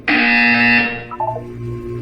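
In the video game Portal 2, a loud, harsh electronic buzzer sounds for nearly a second, then cuts off and leaves a short trailing tone.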